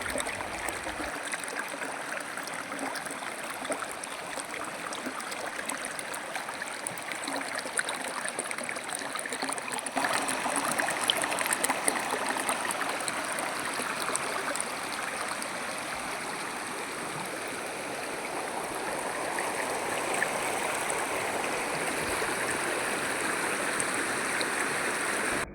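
Water rushing over rocks in a river, a steady broadband wash that stays fairly close and constant the whole time, with no voices over it.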